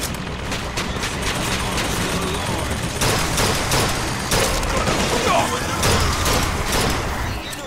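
Automated turrets fire bursts of gunfire during BioShock Infinite combat, a dense, loud, continuous barrage with overlapping shots and explosive booms throughout.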